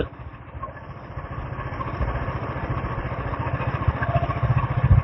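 A Royal Enfield Classic 350 rides along on a quiet early-morning road, its single-cylinder thump steady and close, rising gradually in loudness over a low rumbling exhaust with no talking.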